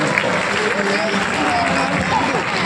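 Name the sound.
applause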